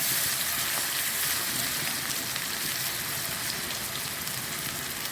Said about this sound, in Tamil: வானலில் எண்ணெய் ஊற்றி நல்லெண்ணெய் ஊற்றிருக்கேன் நல்லா நான் நல்லா சூடாறினோடனே வெங்காயம் சின்ன வெங்காயம் நல்லா பொடியாக அறிஞ்சது போட்டுக்கணும் போட்டு நல்லா வதக்கணும்